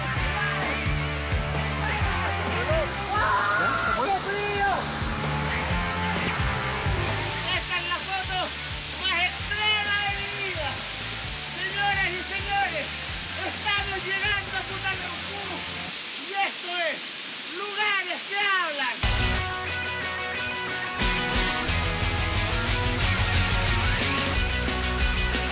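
A waterfall in Futaleufú, Patagonia rushes as a loud continuous roar, with music and a voice layered over it for much of the time.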